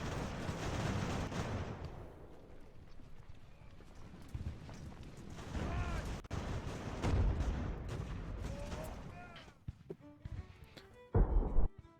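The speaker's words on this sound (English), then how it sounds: "They should be able to just keep firing at the skirmishers." Scattered musket volleys from fusiliers in the naval battle game Ultimate Admiral: Age of Sail, irregular crackling shots and thuds over a busy rumbling battle background, fairly faint.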